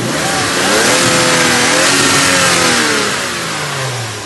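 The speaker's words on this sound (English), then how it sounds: "The engine's good response." Toyota Mark II IR-V with a 1JZ turbo engine revving loud and close, the pitch climbing, holding high, then sliding back down toward idle.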